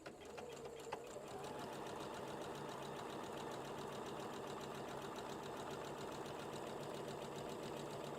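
An electronic sewing machine stitches a buttonhole, giving a steady fast whirring, rattling hum that runs on evenly after a brief start, fairly quiet and close with no talk.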